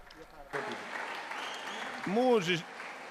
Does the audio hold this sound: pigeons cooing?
no